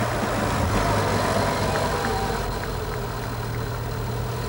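A 1912 vintage racing car engine runs at a steady idle, a constant low rumble that holds even throughout with no revving and no voice.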